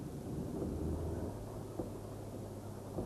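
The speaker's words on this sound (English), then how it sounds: "we've got a shot here of an absolute downpour." A heavy rain downpour in Cottingham in 1986 gives a steady, dense roar of rain. It stays constant throughout, with low rumbling underneath and no voices.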